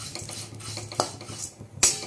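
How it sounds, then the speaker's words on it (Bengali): Flattened rice being fried in small batches in a pan, with metal spoon and pan clatter, scraping stirs and a couple of sharp clanks over a faint sizzle, close by and without talk. "ভেজে নিতে হবে অল্প অল্প করে"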